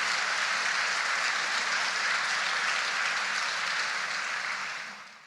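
An audience claps steadily in a dense, even wash of applause that holds for several seconds and then fades out at the end.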